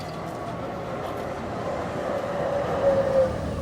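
An old San Francisco tram runs with a steady, close rumble and rolling hum that swells slightly near the end, with no voices over it.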